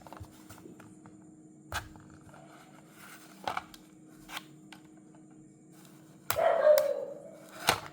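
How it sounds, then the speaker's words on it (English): A dog barks several times at a distance, scattered short barks over a quiet background, with a louder burst near the end. "This dog don't shut up actually."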